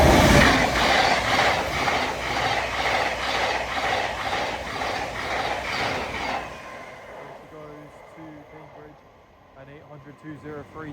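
An LNER Azuma train passes through Alexandra Palace, loud and close, with rhythmic clickety-clack of wheels over rail joints that cuts off abruptly, leaving a quieter, fading rumble and a faint tonal hum.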